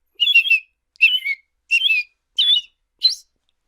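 A man whistles an imitation of the American robin's song: five short warbling phrases with brief gaps between them, clear and close, with no other sound.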